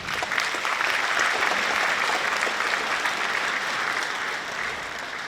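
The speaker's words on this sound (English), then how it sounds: "clap for that" Sustained audience applause fills the room at a community gathering, a dense, steady wash of many hands clapping at close range for about five seconds, tapering slightly at the end with no voices over it.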